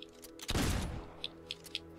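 A powerful rifle in the video game Fable 2 fires one loud, booming shot that rings briefly, followed by several faint, quick clicks.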